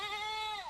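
A single goat bleat, a close, loud wavering cry lasting under a second and trailing off at the end, heard alone.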